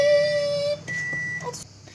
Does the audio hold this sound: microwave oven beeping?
yes